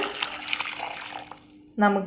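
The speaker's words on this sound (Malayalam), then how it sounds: "ഇനി നമുക്ക് വെള്ളം ഒഴിച്ചിട്ട്" Water pours from a tap or jug onto salted tapioca in a pressure cooker, a broadband splashing rush for most of the moment that drops away, then a louder, fuller gush at the end.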